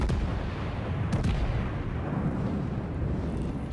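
Battleship guns firing in the naval game World of Warships, with a Colorado and a Bayern trading salvos: a dense, steady roar of heavy gunfire and rumbling booms that lasts the whole stretch, with no talking.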